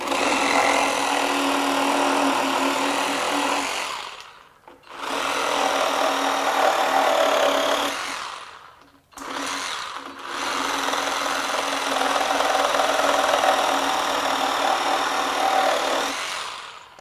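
A SKIL 20V brushless one-handed reciprocating saw cutting through large stock, a loud, steady buzzing drone in three long bursts separated by brief pauses, close and alone.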